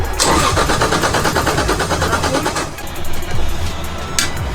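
A drift car at the Drift Open 2021 round at Tor Kielce cranks and fires up loudly close by, its engine starting with a rough churning burst and then settling toward a steady running rumble.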